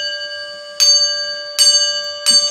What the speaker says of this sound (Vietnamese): Các bạn thấy thầy đánh chuông gọi vong đấy.